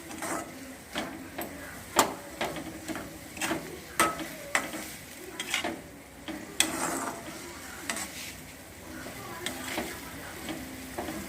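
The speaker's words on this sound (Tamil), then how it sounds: "உருளைக்கிழங்கு சேர்த்து நல்லா கிளறி விட்டுக்கலாம்." A spoon scrapes and clinks around a pot as potatoes are stirred into boiling water, with irregular knocks over a bubbling, sizzling bed of sound and no voices.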